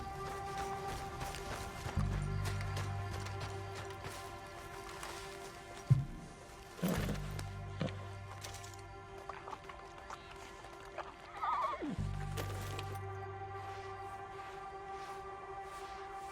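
A horse galloping and neighing in the video game Red Dead Redemption II: steady hoofbeats under a droning musical background, with a few sharp neighs and whinnies rising out of it.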